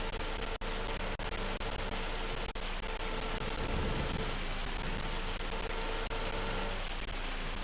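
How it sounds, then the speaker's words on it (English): Hail falling in the farming video game Farming Simulator 25, a dense, steady hiss of pattering ice like heavy rain, with a few brief dropouts and a slight swell near the middle; no voices. "That's like radical, that hail."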